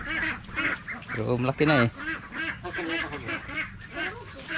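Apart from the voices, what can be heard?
duck quacking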